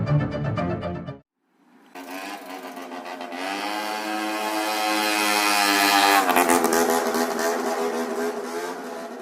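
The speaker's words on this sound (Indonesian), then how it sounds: "Suara motor Takeda Kose membelah keheningan malam." A loud, close motorcycle engine drones steadily, its pitch and volume climbing gradually as it revs, after a brief silence.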